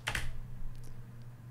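Code is typed on a computer keyboard, giving a quick burst of close key clicks at the start and then a few scattered, fainter taps over a steady low hum.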